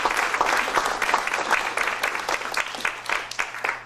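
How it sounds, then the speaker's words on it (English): Debate-event audience applauding a team that finished first in California, a steady wash of many hands clapping throughout, moderately loud and close, without talk. "give these guys a round of applause"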